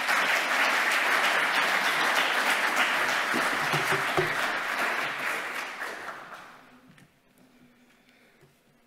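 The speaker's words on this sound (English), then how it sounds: "Applause, please." Sustained audience applause at a talk or conference, loud and dense for about six seconds before tapering off into near silence.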